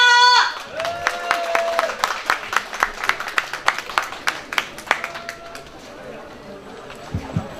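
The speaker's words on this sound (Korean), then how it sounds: "박수와 함성 한번 주세요" A festival crowd at a whitebait festival in Janggo Harbour, Dangjin, claps and cheers for a performing singer, rhythmic rising claps building then thinning out, with a voice talking over the end.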